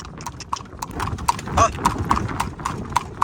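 Horse hooves clip-clop steadily as the horse pulls a tanga cart, a close, even rhythm of sharp clops over low road and cart rumble.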